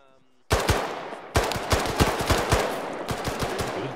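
Video-game gunfire in a Syria combat setting, with a sharp onset of loud, close automatic bursts, rapid repeated cracks, short pauses between volleys and no talk over the shooting.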